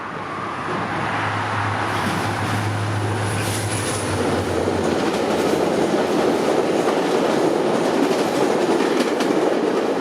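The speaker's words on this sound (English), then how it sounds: "there's a VIA train coming" A VIA Rail passenger train rushes past nearby in Toronto, loud and sustained, with rhythmic clickety-clack of wheels and a broad roaring wash of noise.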